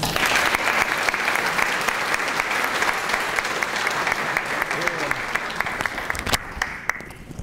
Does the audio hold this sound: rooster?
no